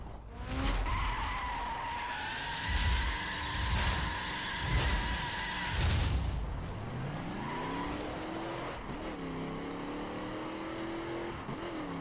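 A drag-tuned Mustang in a racing video game skids and squeals its tires through corners, with repeated screeching bursts over a steady engine drone, then the engine revs rise and fall as the car accelerates out.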